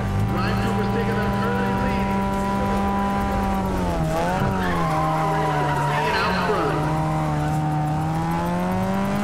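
Race car engine whine and tire skidding in the racing video game Need for Speed ProStreet, a loud continuous drone with pitch bending as the car slides through turns, while a player talks over it.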